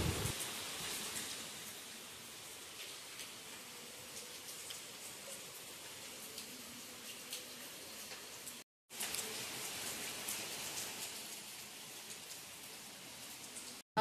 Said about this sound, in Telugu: వర్షం పడుతూనే ఉంది.